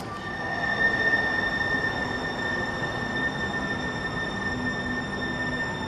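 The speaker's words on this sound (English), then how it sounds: "Look at these trains, beautiful." Trains passing through a station, steady loud rumble with high sustained wheel squeal throughout, no speech.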